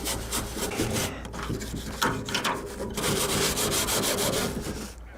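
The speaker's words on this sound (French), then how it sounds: "on va venir passer un petit coup de brosse" Stiff brush scrubs a wooden beehive floor board to remove propolis, close rasping back-and-forth strokes in a steady rhythm with brief pauses, no talking.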